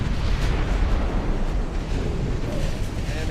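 Heavy, sustained explosive rumble of torpedo strikes slamming into a ship in a naval warfare video game, a loud low-frequency roar with churning water and blast noise throughout.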